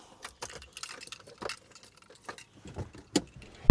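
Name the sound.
car keys jangling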